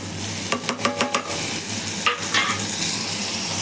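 Onion and tomato sautéing in a pan, a soft steady sizzle with a quick run of spoon scrapes and clinks against the pan near the start and a couple more later, no talking.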